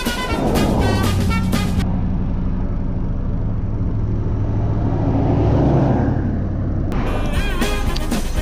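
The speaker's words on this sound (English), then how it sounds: "Well, I'm gonna wait for these cars." Cars roar past on a road one after another, loud and close at the start, fading to a steady rumble of traffic, then another vehicle sweeps by near the end; no talking.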